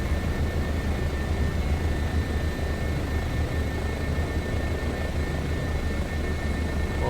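A Bo 105 helicopter in flight in Microsoft Flight Simulator 2024: a steady, loud, dense rotor and engine roar with a constant whine on top, unbroken throughout.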